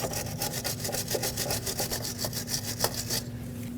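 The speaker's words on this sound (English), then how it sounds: "cleaning the threads with a wire brush is going to help since they're a little bit rusty" Wire brush scrubbing the rusty threads of a bolt on a 2006–2015 Lexus IS250 front lower control arm, a close, steady rasping in quick rhythmic back-and-forth strokes that stops near the end, with no voices.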